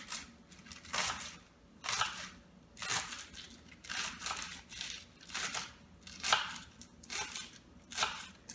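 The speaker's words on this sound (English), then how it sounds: "So let's continue to cut this until finished" A knife chopping collard greens on a cutting board in a home kitchen, about eight crisp, evenly spaced strokes roughly once per second, close and moderately quiet with no talking.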